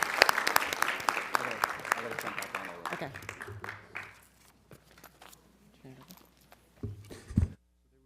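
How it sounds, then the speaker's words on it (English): An audience at a school board meeting applauds students with dense clapping that fades out after a few seconds, followed by scattered claps and room noise, with a brief spoken word near the end. "Let's give them all these amazing students, another round of applause."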